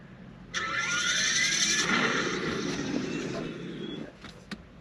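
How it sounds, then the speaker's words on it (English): A car's exhaust roars up abruptly and holds a steady, loud rumble for a few seconds before tapering off, followed by a couple of faint clicks. "You can hear the exhaust."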